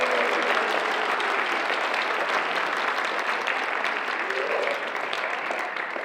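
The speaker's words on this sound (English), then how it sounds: "Can you give yourselves a round of applause?" Audience at a San Juan College Symphonic Band concert applauds with dense, steady clapping that fills the space evenly for several seconds before easing slightly near the end.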